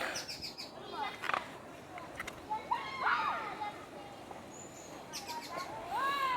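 Chirping bird calls ring out intermittently overhead, fairly faint, mixed with voices talking and a few sharper whistled notes near the end.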